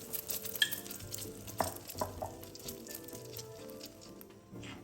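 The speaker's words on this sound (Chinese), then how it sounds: "油热后，将备好的蛋液全部倒入，这货边起泡部分就是所谓的蕾丝边。" Beaten egg hits hot oil in a pan for a preserved-radish omelette, a steady close sizzle and bubbling with a few sharp clinks of a metal spatula against the pan.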